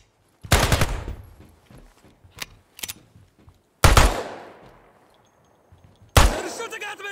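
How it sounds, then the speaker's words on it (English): Gunfire in the tactical shooter Ground Branch comes as several sharp, loud shots spread across the moment, each with a ringing tail, separated by quieter thuds and short pops. "They're shooting at me!"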